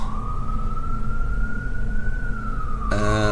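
A siren wails outdoors in a long, steady rising and falling tone over a constant low rumble, then shifts abruptly into a rapid yelping pattern near the end.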